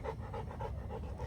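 A dog panting steadily in quick, rhythmic breaths, close and clear, with no talking over it; the breed is a low-key working guard type once used to pin down poachers.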